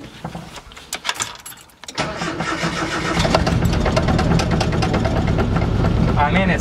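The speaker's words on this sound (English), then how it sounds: "we're just gonna try to start it just like that" Nissan Hardbody pickup truck engine cranking and firing up, with keys and handling sounds first, then a short crank and a steady, loud rough idle for the rest of the clip.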